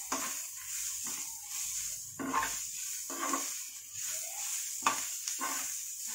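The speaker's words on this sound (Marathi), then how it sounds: "आणि ह्याला ढवळत राहा म्हणजे सगळा मसाला सगळ्या कांद्याला व्यवस्थित लागेल" Onion and red chilli masala stirred in a pan over a soft continuous sizzle, a spoon sweeping through it in several separate passes, close and moderately quiet, no voices.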